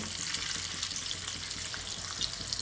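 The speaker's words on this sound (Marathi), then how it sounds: "याच्यामध्ये पाणी टाकते" Water is poured into a hot pan of tempering with curry leaves, lemon juice and sugar for khaman dhokla, giving a loud, continuous bright sizzle and hiss that stays steady for the whole stretch with no voices.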